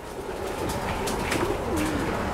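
A Teddy pigeon coos in low, soft rolling calls that repeat over steady background noise, fairly close, with no talking.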